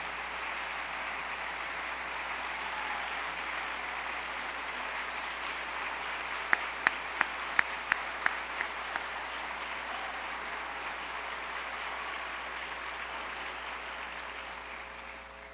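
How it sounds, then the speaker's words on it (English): A large conference audience rises and applauds, producing a broad, steady wash of distant clapping with a brief run of sharper knocks or claps in the middle before the sound gradually fades. "to please stand and give yourselves and all who have traveled this journey alongside you a big round of applause."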